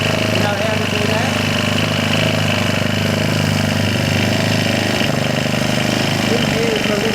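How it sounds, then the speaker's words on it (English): A small whipper snipper or chainsaw engine idles with a steady, loud buzzing drone that holds its speed throughout, while someone talks over it. "if the engine's running too slow, you know you can adjust the idle speed"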